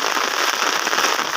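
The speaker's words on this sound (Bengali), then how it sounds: "দেখেন সকাল থেকে যাবত খুব বৃষ্টি হচ্ছে।" Heavy morning rain pours steadily and densely, a close, unbroken hiss of drops striking surfaces with no pauses.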